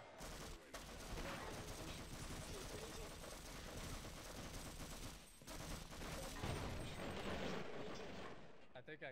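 Heavy .50 caliber machine gun fire in the Half-Life co-op mod Sven Co-op, a relentless, loud stream of rapid shots and blasts filling the scene, with a brief dip midway before the barrage resumes.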